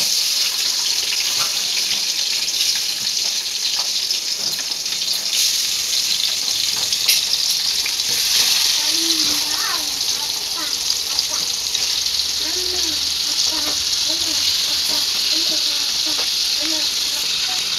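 Tomato and raw mango pieces fry in hot oil for a pickle, giving a continuous bright hissing sizzle with small crackles and pops rising partway through, close and steady with no talking.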